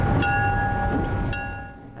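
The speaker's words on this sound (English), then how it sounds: "BC Rail has been running its trains out of this yard in Squamish." BC Rail train in the Squamish rail yard, a steady rumble with a sustained horn-like tone held for about two seconds, fading slightly at the end.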